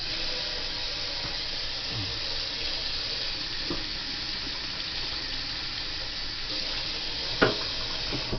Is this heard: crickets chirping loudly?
no